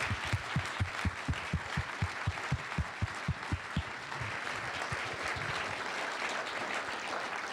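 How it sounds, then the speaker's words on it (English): A lecture audience applauds, starting with several sharp, rhythmic claps that quickly blend into a sustained, moderately distant wash of clapping that continues to the end. "I'd like to give him a round of applause for that"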